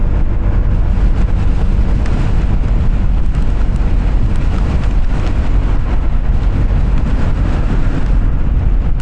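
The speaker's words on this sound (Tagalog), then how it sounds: "malakas yung hangin eh" Strong wind buffeting a microphone during an outdoor ride, a loud, continuous low rumble and roar that dominates the whole clip without voices.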